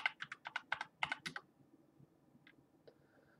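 Typing on a computer keyboard in a command prompt: a quick run of about a dozen crisp key clicks, then two isolated taps, close and quiet, with no talk.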